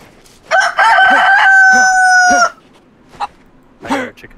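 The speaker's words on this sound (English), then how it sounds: "I heard a chicken." A chicken in the snowy DayZ survival game gives a loud, close crow-like call lasting about two seconds, followed by a few shorter clucks.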